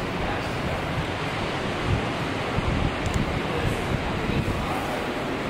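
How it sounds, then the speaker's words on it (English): Strong wind buffets the back deck of a large abandoned beachside mansion with the ocean nearby, a steady loud roar of gusts and microphone rumble with distant surf mixed in, no talking. "It is very windy, but this is the back deck of this mansion."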